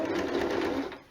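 A sewing machine stitches the side seams of the sleeves on a jersey top, running steadily and close for about a second before winding down.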